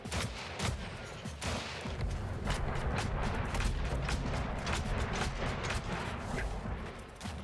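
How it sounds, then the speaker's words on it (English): Gunfire in the video game Weird West, a pistol among loud repeated sharp shots in a busy, dense volley with creaking mechanical noises mixed in, no talk. "So we'll use this pistol some."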